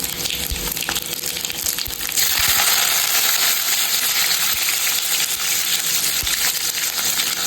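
Curry leaves dropped into hot oil for a tadka with garlic, red chillies, mustard seeds and cumin, giving a sudden loud, steady sizzle and crackle that holds close and continuous after a few clinks of utensils.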